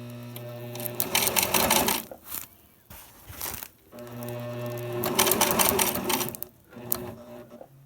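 A sewing machine stitching a handle onto an insulated bag runs in two close, rapid bursts of mechanical clatter separated by pauses, with brief handling noises between runs.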